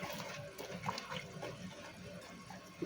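Sinigang broth made with a salmon head and kangkong boils hard in a pot, giving faint, steady bubbling and gurgling with no speech.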